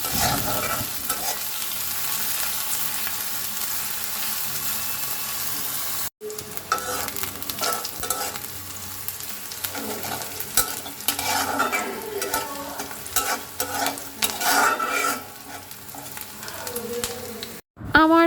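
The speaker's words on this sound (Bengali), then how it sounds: "এখন আমি এই পেঁয়াজ আর মরিচগুলো সুন্দর মতো ভেজে নেব" Onions and green chilies frying in mustard oil, a close crackling sizzle with frequent scraping and stirring against the pan, continuous apart from a couple of brief cuts.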